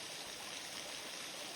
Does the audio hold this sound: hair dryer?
no